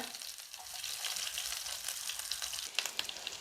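Shallots sizzle and crackle steadily in hot oil after mustard seeds have popped, for a Kerala buttermilk curry, a bright continuous frying hiss with a few sharper pops near the end, no voices.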